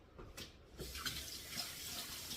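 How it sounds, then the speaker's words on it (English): Kitchen tap water running steadily into a sink while hands are rinsed, a close, continuous splashing hiss with no talking. "Let me wash my hands again."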